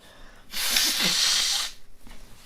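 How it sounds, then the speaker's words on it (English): A person blows their nose in one loud, rushing burst lasting about a second, then it falls quiet, with no talking. "Sorry, I gotta blow my nose."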